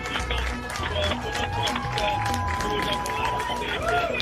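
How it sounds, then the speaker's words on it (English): A crowd watching a rocket booster land cheers and claps continuously, a dense wash of voices and applause with a few shouts rising through it, while someone talks over the noise. "As you can hear, more cheering here."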